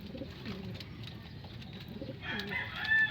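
Young racing pigeons coo and call softly near a loft, their murmurs layered with a few brighter chirps that swell toward the end; no one speaks.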